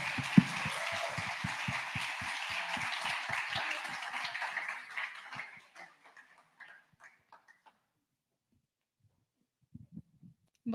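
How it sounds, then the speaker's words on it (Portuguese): Audience at a talk on women in STEM claps in a steady burst of applause for about five seconds, then thins into a few scattered claps and fades to near silence. "Palmas, gente!"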